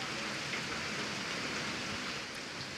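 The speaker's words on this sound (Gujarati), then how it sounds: "જિલ્લામાં સતત 3જા દિવસે મેઘરાજા મન મૂકીને વરસ્યા" Heavy monsoon rain falling steadily in Saurashtra, a dense even hiss of drops at a constant moderate level with no voices.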